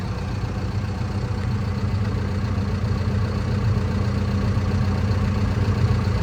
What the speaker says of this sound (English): the machine fires up perfectly. Idle's good.